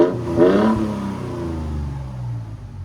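A Toyota Tundra's 3.4L twin-turbo V6 with a Borla Atak exhaust revs up sharply near the start, then settles into a loud, steady growl that drones on for the rest of the stretch, with no talking.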